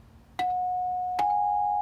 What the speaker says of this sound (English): I think it was called a glockenspiel. It's a bell set. So they're tin bells.